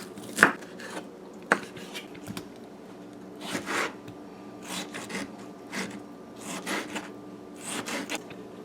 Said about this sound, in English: So our garlic for this dish, you guys, because it's a soup, we're just gonna chop it finely